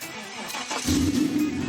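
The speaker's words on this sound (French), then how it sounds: "Ça sonne comme un V8, non? Parce que c'est un V8, de Corvette même" A TVR Sagaris sports car's Corvette V8 cranks and fires up, settling into a deep, loud, close rumble of idle and light revving inside the narrow cabin, with no talk.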